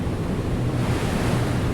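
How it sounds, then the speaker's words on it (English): A small waterfall in the video game Ghost on the Shore rushes and splashes in a steady, loud, broadband roar with no pauses or voices. "Little waterfall."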